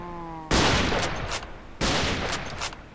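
Two loud bursts of gunfire from a gun in Minecraft, each a sharp onset followed by a dense, crackling rattle lasting about a second, the first preceded by a soft tonal hum.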